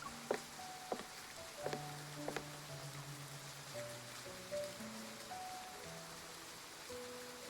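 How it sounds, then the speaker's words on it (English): Soft, steady rain falls in the video game Love and Deepspace, a faint hiss with scattered drop patters beneath gentle sustained game music tones. "As raindrops suddenly fall"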